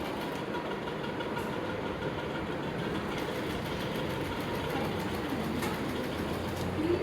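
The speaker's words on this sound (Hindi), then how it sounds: "हमारी सारी सिलाई की स्टूडेंट हैं जो कि अभी सिलाई कर रही हैं" Sewing machines run steadily as students in a sewing class stitch, giving a continuous mechanical whir with a faint rattle, fairly quiet and unbroken, with no talk over it.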